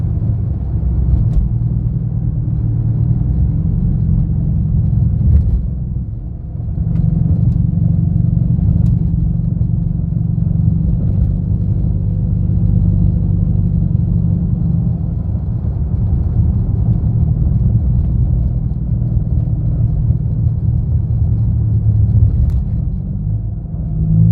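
A 2013 Dodge Charger R/T with its 5.7L Hemi V8 drives along a rough county road, a steady deep engine rumble filling the cabin continuously with slight dips and surges, no talking over it.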